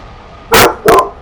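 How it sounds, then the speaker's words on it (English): Two loud, quick dog barks ring out in the background of a Skype call during gameplay, a close double woof with a short gap between them over a quiet room. "Your dog is barking so much now"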